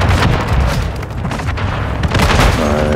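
Heavy, continuous booming from grenade explosions in Call of Duty: Modern Warfare 3 (2023), loud and dense, rumbling without break and with no talk over it.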